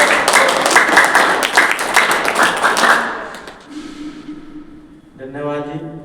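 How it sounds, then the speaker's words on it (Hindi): Applause from members of a gathering, loud clapping for about three seconds that then stops abruptly, followed by quiet and a voice starting to speak. "तो एक बार इनका अभिनंदन तालियों के साथ।"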